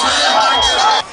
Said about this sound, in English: President Museveni was received by an electrifying crowd